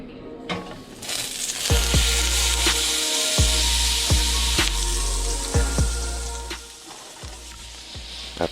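Vegetables and noodles sizzle in a hot pan for a stir fry, a steady frying hiss punctuated by a regular series of sharp scraping and tapping strokes as the food is stirred.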